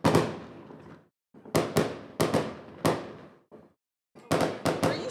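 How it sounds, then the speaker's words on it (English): Fireworks explode nearby in loud sharp bangs, about a dozen in uneven bursts with short echoing decays and brief silent gaps between. "oh, that's fireworks."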